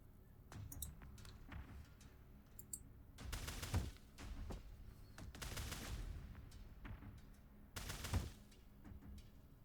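Repeated gunshots in the video game Tactical Breach Wizards, heard as a few sharp, loud bursts spaced a few seconds apart over quieter clicking and background game sounds.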